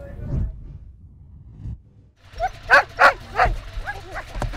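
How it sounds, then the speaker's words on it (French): Nine sled dogs ready to pull a dog sled in Prince George, Canada, break into a burst of loud, close barks and yips after a quieter stretch of low rumbling and movement outdoors. "9 chiens prêts à tirer le traîneau"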